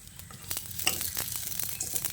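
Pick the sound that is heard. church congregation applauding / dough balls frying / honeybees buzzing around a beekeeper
dough balls frying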